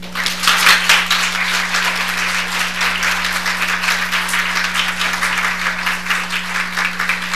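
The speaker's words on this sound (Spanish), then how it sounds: "le brindamos un fuerte, fuerte aplauso a la licenciada Yolanda Valet" A lecture audience at a forum on attention deficit hyperactivity disorder breaks into loud, sustained applause, with crisp, rapid claps from many hands continuing evenly throughout, accompanied by a steady low hum.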